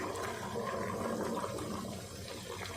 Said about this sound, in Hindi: पानी में बॉयल आना शुरू हो गया।